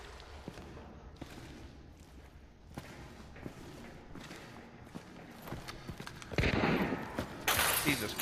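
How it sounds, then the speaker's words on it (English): Gunshots in Hunt Showdown: sporadic sharp shots and footsteps, fairly faint, building to louder bursts of fire near the end, with no talk. "Jesus Christ, he shot at me"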